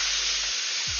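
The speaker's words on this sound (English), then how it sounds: "I'm frying some fries and some chicken strips right now." Fries and chicken strips frying in hot oil make a steady, close, bright sizzling hiss that fills the whole brief moment without pause.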